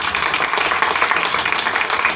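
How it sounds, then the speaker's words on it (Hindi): An audience at a training institute's 15th anniversary program claps for Mukesh, a dense, loud and continuous burst of applause filling the whole moment. "तो मुकेश के लिए भी एक बार तालियां हो जाए।"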